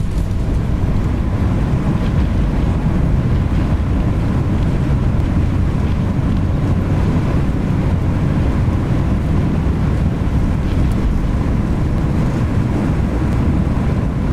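Thrust reversers of a Toliss A321neo deploying on landing in a flight simulator, heard as a loud, steady broadband roar that holds unbroken and close for the whole stretch, with no talking.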